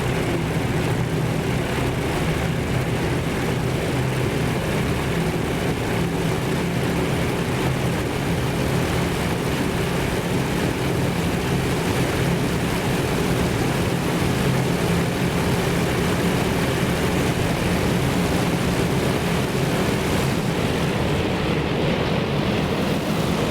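A warplane in the naval strategy game Task Force Admiral dives on a target, a dense, continuous roar of engine and rushing air held at a steady loud level throughout without talk.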